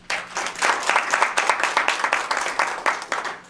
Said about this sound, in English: another round of applause to the Honorable Mayor Richard C.